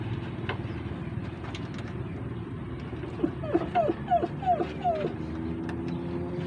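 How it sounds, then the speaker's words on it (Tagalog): A puppy whimpers and yips in a short series of high, rising cries near a stalled truck loaded with bamboo, heard over a steady low engine-like rumble and background noise. "Parang may tuta, no?"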